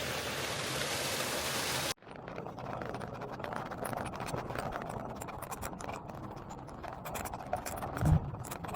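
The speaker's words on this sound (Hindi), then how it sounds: "देखिए साफ शफाफ पानी भी यहाँ पे जो है वो बह रहा है" Clear water runs in a stream beside the Sapa rice terraces in Vietnam, with light rain falling. A constant rushing wash plays at low volume with scattered small ticks, and there is an abrupt cut partway through.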